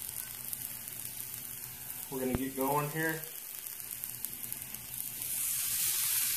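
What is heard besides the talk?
smoked black peppercorn bacon and corn sizzling on Blackstone griddle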